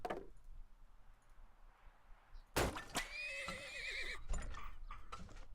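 Horse neighing in the video game Turmoil: a loud whinny with wavering pitch bursts in after a quiet stretch, followed by clicks and clattering sounds, with no talking.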